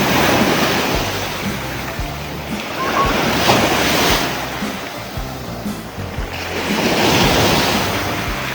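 Ocean waves wash onto a beach in Heraklion, Crete, a steady broad surf roar that swells and ebbs in slow surges, with some wind buffeting the microphone and no voices.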